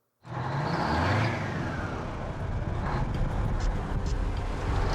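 The engine of an old heavy tow truck revs loud and close, a sustained rough roar that starts abruptly and holds steady for several seconds with no speech over it.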